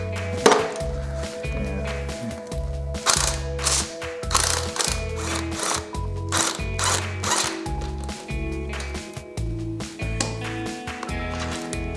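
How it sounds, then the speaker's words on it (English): Hand ratchet clicking in repeated rapid bursts while a mechanic removes the starter motor from a Toyota Supra during a manual and turbo conversion, close and loud, with occasional metallic taps and clunks between strokes and no talking. "And yes, of course, we'll have to take the starting motor off."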